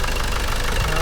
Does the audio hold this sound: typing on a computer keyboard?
no